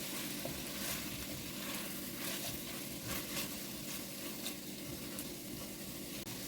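Tomato paste sizzles in a pan for Transcarpathian lecho, a steady close crackle broken by soft stirring scrapes, fairly quiet, with no voices.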